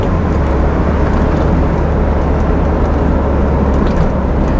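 A Toyota MR2 drives along under steady, loud engine and road noise, a dense continuous roar with no voices over it.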